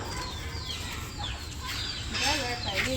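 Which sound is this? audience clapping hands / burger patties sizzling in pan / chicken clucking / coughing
chicken clucking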